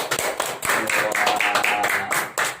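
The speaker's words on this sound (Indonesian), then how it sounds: "Tepuk tangan dulu Tesna." Applause from an audience at an Indonesian youth anti-drug podcast event, dense overlapping clapping that swells and dips for a couple of seconds, fairly loud and close.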